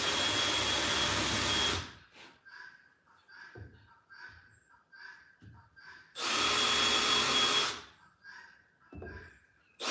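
A power drill countersinks a hole in wood in a workshop, two sustained loud whirring bursts at the start and again mid-clip, with quieter scraping and handling sounds between them.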